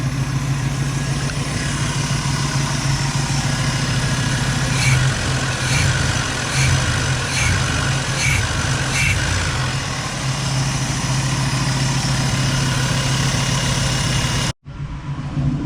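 A 1986 Oldsmobile 442 V8 with a Quadrajet carburetor idles loudly and close with a stumble, a continuous rough rumble broken by a few periodic hesitations before cutting off abruptly near the end.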